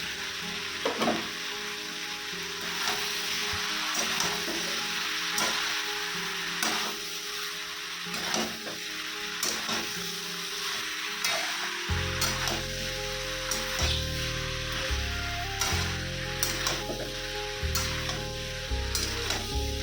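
Malabar spinach and eggplant sizzle and fry steadily in a pan, with repeated stirring scrapes, and a low hum joins partway through.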